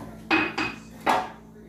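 A metal spoon scrapes and taps in a metal cake pan while spreading melted butter, three distinct scraping strokes with quiet pauses between them, close and clear, with no talking.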